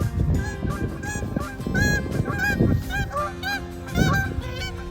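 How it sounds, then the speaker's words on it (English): Many geese honking repeatedly on a lake, a busy overlapping chorus of calls close by a kayak with a steady low background rumble. "And apparently I have company with geese."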